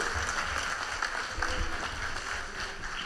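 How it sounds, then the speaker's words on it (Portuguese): Congregation applause in a church service, a soft, distant patter of many hands with low rumbling thumps underneath, faint but continuous. "Uma salva de palmas pros irmãos aqui, ó."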